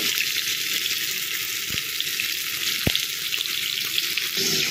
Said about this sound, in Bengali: তো দেখো বন্ধুরা, মাছগুলো ভাজা হয়ে গেছে